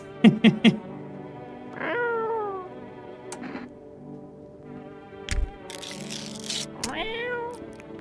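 In the video game No, I am Not Human, a cat meows several times, with drawn-out, pitch-bending calls near and clear over quiet background sounds, broken by a few sharp clicks.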